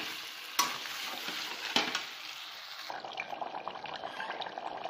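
Fried mutton for a mutton curry is tipped from the pan into hot water in a pressure cooker: two sharp metallic clanks over a frying hiss, then a softer bubbling, watery rush, heard up close with no voices.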